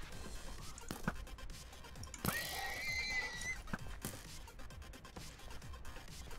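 A horse neighs in the Minecraft game, one shrill whinny in the middle of the clip, fairly close, surrounded by clicking game sounds and hoof-like thuds.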